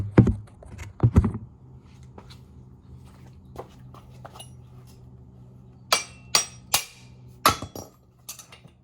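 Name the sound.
hammer tapping out wheel axle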